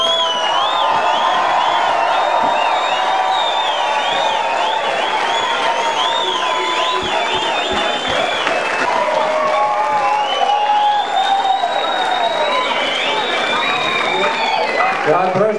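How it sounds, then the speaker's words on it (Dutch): Sustained applause and cheering from an outdoor village festival crowd at a farmers' wedding celebration, steady clapping with whistles and shouts, a voice speaking over it. "ook sowieso even een daverend applaus voor deze drie mensen"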